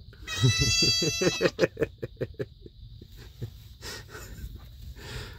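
Young goat kids bleat in a nighttime barn nursery, a rapid run of loud, close, quavering cries followed by a few quieter scattered bleats and rustling.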